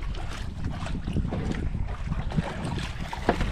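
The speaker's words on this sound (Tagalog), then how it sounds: "Lumakas pang hangin." Strong wind blowing outdoors, a steady roaring rush buffeting the microphone with deep low rumble and occasional stronger gusts, continuous throughout with no talking.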